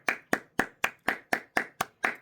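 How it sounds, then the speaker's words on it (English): Hands clap in a steady, even pulse of about nine crisp, close claps, demonstrating how an audience claps in triplets after a piano recital. "if people are clapping, they'll usually clap in triplets"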